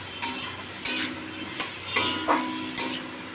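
Fish curry masala with cumin powder, turmeric and salt sautéing in a pan: sharp spatula scrapes recur about every half second over a continuous close sizzle, six distinct strokes in a steady rhythm.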